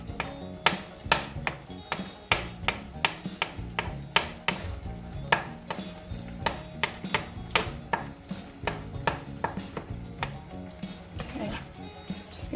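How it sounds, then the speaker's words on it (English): A spoon stirs a thick, sticky mixture in a pan on the stove, making repeated close scraping and tapping strokes in a steady rhythm, with a faint sizzle and some talking underneath. "Stir it in a bit more."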